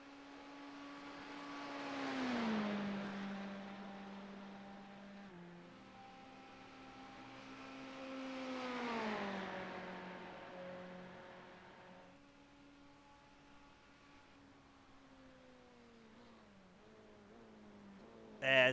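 GT3 race cars roar past in turn, engines rising and falling as each passes close by, then a BMW GT3 car slows onto pit road with a lower, steadier engine note that fades before a brief loud burst at the end.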